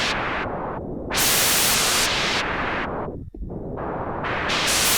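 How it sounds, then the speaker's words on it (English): Synthesizer white noise, a steady full-band hiss that is repeatedly filtered, swept and gated over about five seconds, with one brief dropout near the end. "This is noise. You've heard it a million times used as transitions."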